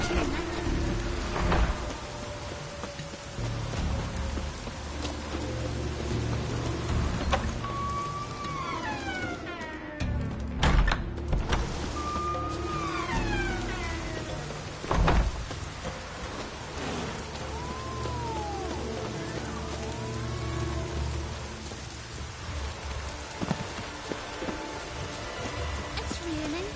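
Steady rain falls across a Skellige landscape in The Witcher 3, a broad continuous hiss with occasional heavier bursts and faint game tones drifting through, with no voices heard.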